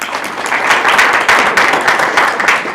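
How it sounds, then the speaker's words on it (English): A hustings audience in Harrow West claps to welcome two election candidates, a dense burst of applause that holds steady and close for a few seconds. "I'd like to welcome the two candidates who are here today with a round of applause"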